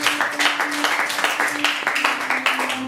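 A church congregation applauding to acclaim the word of God, with steady, rhythmic clapping from many hands close by and a faint voice underneath.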